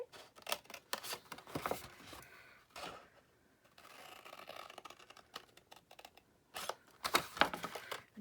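Scissors cut paper corners up to a point for a tall gift bag, giving bursts of close, crisp snipping and rustling separated by brief quiet gaps, no talking.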